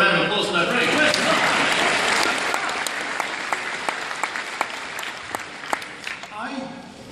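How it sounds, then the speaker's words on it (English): Loud audience applause fills a theatre during a science Q&A, swelling quickly and then tapering into scattered, distinct claps before dying away. "Let's have a round of applause for that brilliant question."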